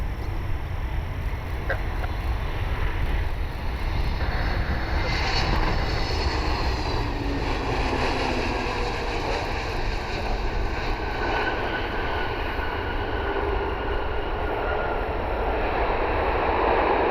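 An Aer Lingus airliner inbound from Dublin roars steadily on approach near Cleveland Hopkins airport, with a constant broad engine drone lasting throughout and a slowly shifting pitch.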